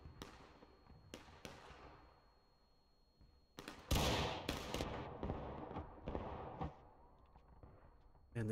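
Musket volley in the Civil War game War of Rights, heard as loud sharp reports clustered together, with a few scattered shots before and after.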